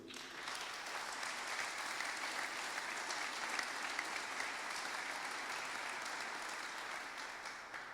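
An audience applauds at the opening ceremony of the University of Gibraltar, with dense, even clapping from a large crowd that holds steady and loud from start to finish.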